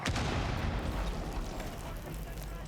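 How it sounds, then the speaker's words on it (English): Gunfire in the video game Rainbow Six on Xbox One, a dense burst of loud, rumbling shots and blasts up front that settles into a heavy, noisy wash, with voices underneath. "Now he starts shooting, going to the floor"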